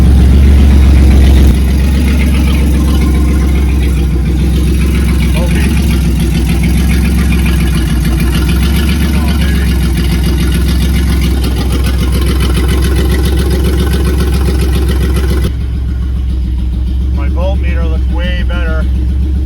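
A Pontiac Fiero engine, fitted with a junkyard F23 transmission, idles loud and close with a steady low rumble that surges unevenly, while people talk over it throughout.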